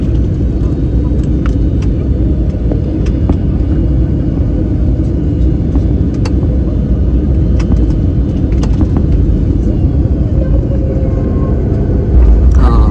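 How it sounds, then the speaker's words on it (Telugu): Heavy low rumble of an airplane landing, continuous and loud, with faint clicks and rattles on top and no clear talk. "ల్యాండింగ్కి సిద్ధం అవుతుంది ఫ్లైట్."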